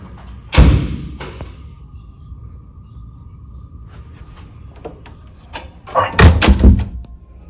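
A hotel room front door during a quarantine stay is opened and then closed, giving a loud thud at the start and a cluster of bangs and knocks near the end, with quiet room tone in between.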